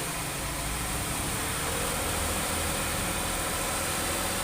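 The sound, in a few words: Lexus GS 300 3000 cc engine revving, catalytic converter removed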